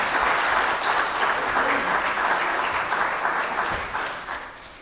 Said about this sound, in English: Let's give them all another round of applause for such a wonderful job.